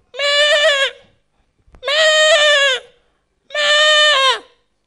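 A human voice imitates a goat bleating, three drawn-out nasal bleats, each about a second long with pauses between, loud and close with no other sound.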